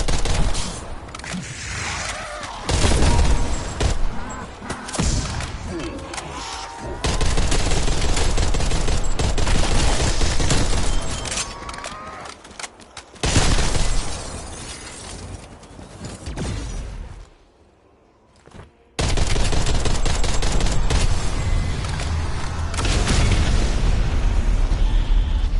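Dense, loud gunfire and explosions from the video game Zombies Outbreak, near-continuous bursts and booms that drop away briefly near the end before the barrage resumes.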